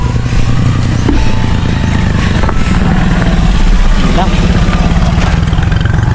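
A motorcycle sidecar comes down a steep hill, its engine a steady, close, droning rumble throughout, while a person speaks over the noise.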